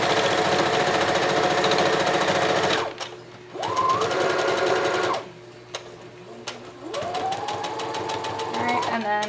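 A sewing machine stitching a blanket on a wobbly table: a loud, fast mechanical whir that runs steadily, cuts off briefly, and restarts twice with rising speed between short pauses, close to the listener.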